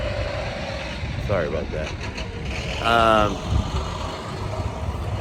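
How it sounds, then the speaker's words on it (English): A loud truck rumbles past outside, a low engine drone that swells for a few seconds and then fades, under and between a person talking. "That was a loud truck."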